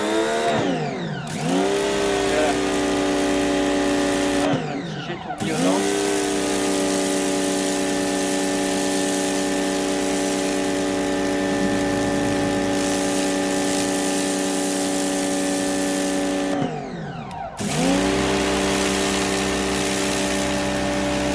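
A Bosch UniversalAquatak 135 pressure washer runs with a loud, steady motor whine and spraying hiss, dipping briefly three times as the trigger is released and the pump winds back up.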